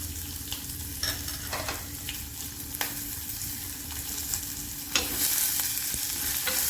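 Finely chopped onion hitting hot oil with curry leaves and crushed ginger, a steady sizzle under a low hum, punctuated by scattered clicks and scrapes of stirring that swell near the end.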